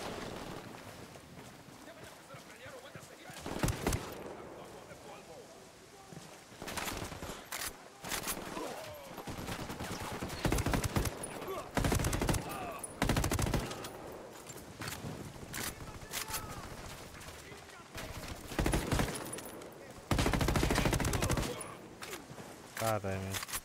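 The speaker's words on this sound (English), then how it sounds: "Opening fire." Heavy gunfire in Ghost Recon Wildlands, loud bursts of shots and explosive cracks recurring through a noisy battle scene, close and dense, with a voice talking over parts of it.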